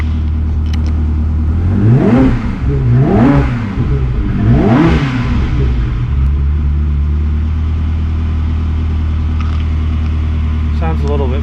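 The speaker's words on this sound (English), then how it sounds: "I'm going to give you guys a few revs" A Ferrari 360 Modena fitted with a Tubi Style exhaust, revved three times in quick succession, each blip rising and falling loud and close, then settling to a steady rumbling idle.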